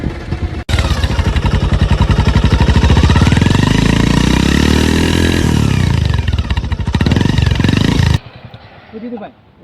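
A motorcycle engine runs loudly close by, rising and falling in pitch as it revs, then cuts off abruptly near the end.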